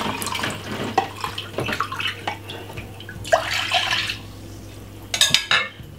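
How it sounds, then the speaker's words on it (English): Water splashes and trickles in short pours into a jug of ginger water with lemon, with clinks of glass and a low steady hum underneath. "just pour the rest in it like this"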